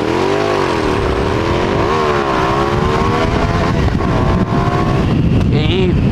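A Kasinski Comet 650 motorcycle engine roars close up and climbs in pitch through the gears under hard acceleration, mixed with heavy wind buffeting and a voice speaking over it.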